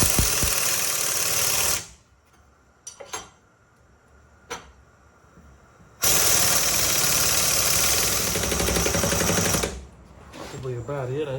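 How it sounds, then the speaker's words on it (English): An air compressor running in a home garage during rear control arm and bearing work on a Porsche 986, a loud steady mechanical drone that cuts out, leaves a quiet gap with a few clanks, then starts again. "I turned the air compressor off. I was just tired of the noise."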